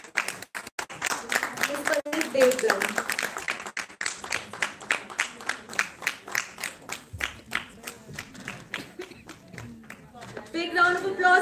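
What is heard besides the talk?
audience applause at an award ceremony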